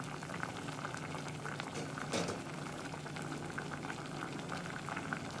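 Isan-style curry of pork belly, mushrooms and pumpkin seasoned with fermented fish sauce simmers in a pot, giving a soft, steady bubbling with occasional small pops, faint and close, with no voices.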